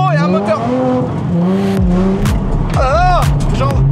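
A Japanese car drifting with a hydraulic handbrake, engine revving and dropping in pitch while tires squeal in repeated bursts, loud and close, with people talking over it.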